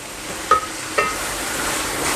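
A kilo of marinated prawns sizzles in a masala with green chillies, a steady hiss broken by two quick stirring clinks near the start.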